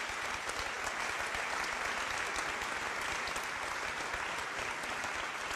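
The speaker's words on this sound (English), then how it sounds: "That's worth a round of applause, absolutely." A round of applause from the audience at a university panel on climate and economics in Geneva, an even, sustained crackle of many hands clapping at moderate distance, with no speech over it.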